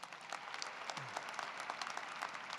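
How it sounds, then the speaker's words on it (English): A commencement ceremony crowd for the Class of 2020 claps for an honoree, a brief even patter of applause with a short low murmur partway through. "Please give him a round of applause now."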